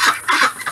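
A large black hen on a winter homestead gives a few quick, close clucks in short bursts, with no other sound around them.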